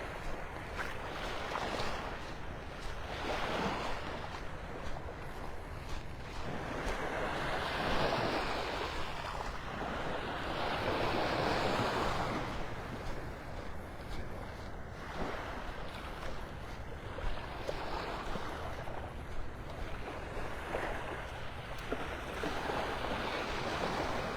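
Ocean waves wash steadily onto Vanderbilt Beach in North Naples, Florida, in a continuous surging hiss with swells every few seconds, mixed with blustery wind noise across the microphone and no talking.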